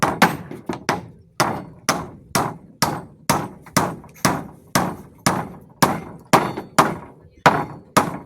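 A hammer drives nails with about sixteen loud, close, evenly spaced blows, each a sharp thud that rings out briefly before the next strike.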